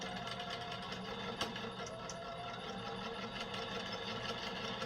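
A sewing machine stitching a sawtooth star quilt block, running as a faint, steady mechanical whir with a rapid rhythmic needle chatter throughout, and no voices.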